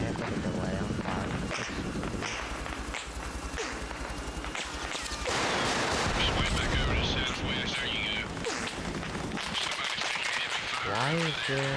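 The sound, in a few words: gunfire in the video game Arma Reforger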